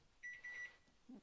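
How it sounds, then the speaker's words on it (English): A kitchen timer goes off in a home kitchen while potato bread bakes: two quiet, high electronic beeps in a row, followed by a faint lower thump. "the timer is going off"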